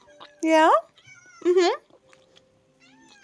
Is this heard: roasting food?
no